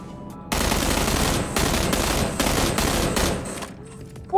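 Rapid automatic gunfire rattles in the video game PUBG, loud sustained bursts firing continuously for about three seconds before tapering off.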